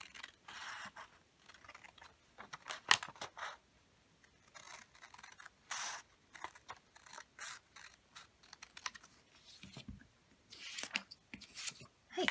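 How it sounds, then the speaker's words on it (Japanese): Scissors cut a folded sheet of origami paper in half, giving close, quiet bursts of crisp snipping and paper rustle in short irregular runs, with no talking. "ハサミで切って半分のサイズにしていきます。"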